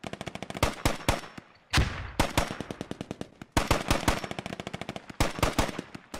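An exchange of fire in the military shooter Squad: loud, close machine-gun bursts rattle in rapid rhythmic strings, separated by brief pauses and a few heavier single shots, with no voices.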